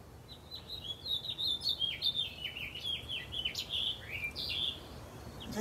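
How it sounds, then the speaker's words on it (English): Birds chirp and tweet in quick bursts, fairly faint and at a distance, over a soft outdoor background. "Listen to the birds."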